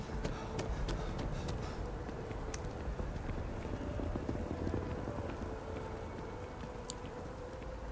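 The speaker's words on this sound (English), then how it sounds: "Lovely. Raining." Steady rain pours down in the game Starfield, a dense continuous hiss with scattered droplet ticks and occasional sharper taps, constant in level throughout.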